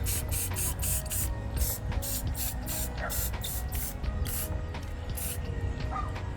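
Aerosol spray paint can spraying decals on Lego clone minifigures outdoors, heard as a series of short hissing bursts in a steady rhythm, close and fairly loud over a constant low background rumble.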